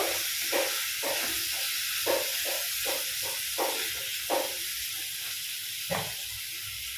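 A semolina mixture with turmeric and chili powder fries in a pan, giving a steady loud hiss and sizzle with rhythmic scraping bursts from stirring, roughly every half second, and no talk.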